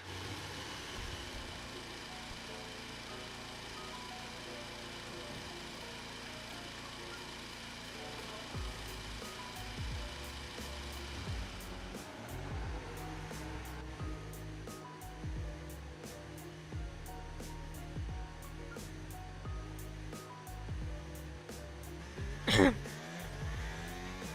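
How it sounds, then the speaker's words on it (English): A Formula 1 car engine idles and revs in the racing game F1 25, a steady droning hum with shifting tones that stays fairly faint and even, ending with a brief sharp burst. "Okay, engines fired up, we're set."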